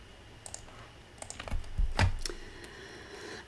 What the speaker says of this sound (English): I can type it in with my keyboard and move along.